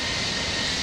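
Airliner engines roaring under reverse thrust during landing in the X-Plane 11 flight simulator; a loud, steady broadband rumble through the whole short burst.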